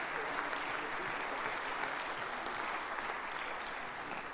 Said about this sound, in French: Donc, je pense qu'on peut l'applaudir, Alexis.